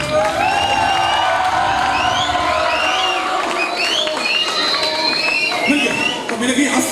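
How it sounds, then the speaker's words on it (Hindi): A seminar audience claps and cheers during a motivational talk, a dense, steady wash of crowd noise with shouts and whoops running through it from start to end. "आप ताली बजा सकते हो अभी।"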